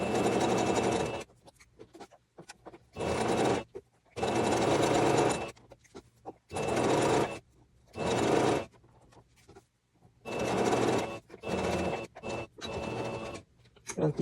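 Sewing machine stitching bias binding onto fabric, running in close bursts of steady whirring that stop and start repeatedly, with someone speaking in the pauses.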